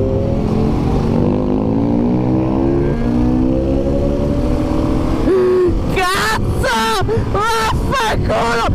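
A Honda Dominator and a Ducati Panigale race on the road, with engines revving and rising in pitch close by. Near the end the engine note breaks into sharp, rapid throttle bursts.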